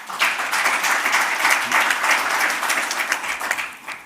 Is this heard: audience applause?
yes